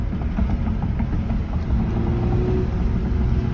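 A manual Audi's engine rumbles steadily from inside the car during a late-night drive, a low, even drone with slight surges and no talking.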